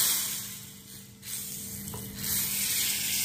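Mustard seeds spluttering in hot oil for a horsegram rasam, giving a steady close sizzling hiss with crackle that keeps going without a break and has no talking.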